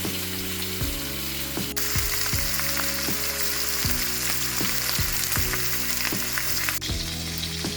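Pork belly skewers fry in a pan with a loud, continuous sizzle and crackle, while steady rhythmic clicking runs underneath throughout.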